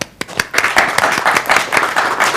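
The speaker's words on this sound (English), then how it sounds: "Please welcome with thunderous clapping Mrs. and Janab Shah" An evening audience at an event in London honoring the Aligarh Muslim University Vice Chancellor claps to welcome guests of honor, a close, loud burst of steady rhythmic hand clapping.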